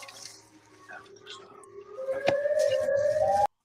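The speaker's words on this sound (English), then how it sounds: "That's a glimpse at Siren Man." Rising siren-like wail in footage of the Siren Man creature, a tone climbing in pitch and growing louder with a sharp click midway before cutting off abruptly.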